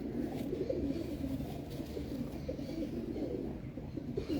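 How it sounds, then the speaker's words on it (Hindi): Racing pigeons coo steadily at a champion loft, a low continuous burbling chorus from several birds close by, with no talk over it. "ये वाकई फेवरेट कबूतर है।"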